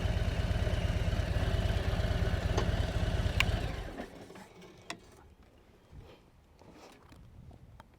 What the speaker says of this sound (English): I'm listening to my engine, I can hear it